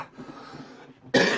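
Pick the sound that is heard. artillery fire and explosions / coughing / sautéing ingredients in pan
coughing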